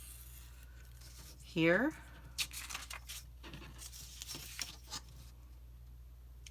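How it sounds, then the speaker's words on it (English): Scissors cutting small paper spine pieces for a 6x6 accordion journal: a brief rising snip and a few soft papery rubs and rustles, faint and close, with a quiet voice speaking. "So we're just cutting these little spine pieces out."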